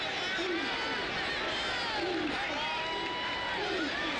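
Crowd noise fills an American college football stadium during the 2007 Alabama vs Mississippi game, a steady roar of many voices with a commentator talking over it throughout.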